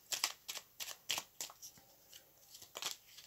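Tarot cards are shuffled and drawn in a quiet room, giving a series of about a dozen short, crisp riffling slaps and flicks at an uneven pace, close and clear with no voice.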